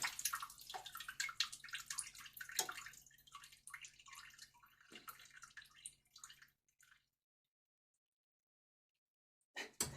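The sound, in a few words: water running while washing cauliflower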